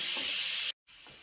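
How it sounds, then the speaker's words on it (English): Loud, steady hiss of steam escaping during an Instant Pot's quick pressure release right after cooking, briefly cutting out for a moment before resuming somewhat softer. "So I'm going to quick release. It's loud. There's going to be a lot of steam because this just finished cooking."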